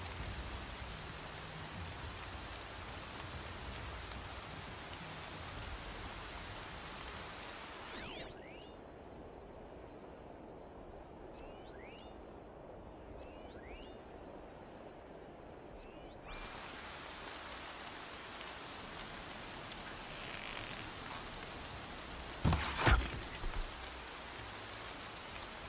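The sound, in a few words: rain falling in a video game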